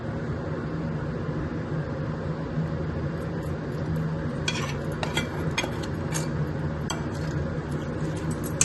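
Cooled spice masala is stirred into lemon and chili pickle, giving a soft steady scraping and mixing with a run of light clinks from a utensil against the container in the second half.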